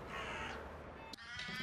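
Agitated crows defending their nest and young in a Kiel park caw harshly, a couple of close, grating calls over a steady background, with no talk.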